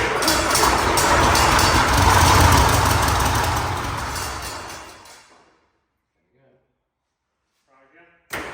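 An M60 tank engine cranks and runs roughly, a loud rumbling roar for about five seconds that then dies away into near silence, with faint voices afterward.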